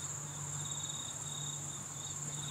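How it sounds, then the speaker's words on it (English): Crickets chirp in a steady, continuous drone outdoors in New Zealand, with a higher pulsing trill layered over a constant whine. "the sounds of the crickets and the birds"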